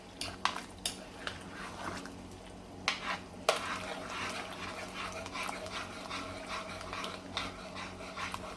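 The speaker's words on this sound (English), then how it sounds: "Stir that around" Beef stew in a pot on the stovetop gets stirred, with soft scraping, scattered utensil clinks against the pot, and a quiet simmering hiss underneath, close but faint.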